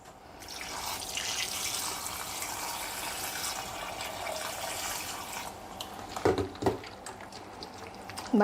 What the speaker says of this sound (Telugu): ఇప్పుడు దీన్ని అయితే ఒకసారి మనం వాటర్ వేసి అయితే క్లీన్ చేసుకుందాం